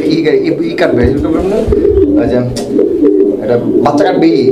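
Pigeons coo continuously in a loft, several birds overlapping in low, throaty rolling calls, close and fairly loud, with busy rustling and fluttering throughout.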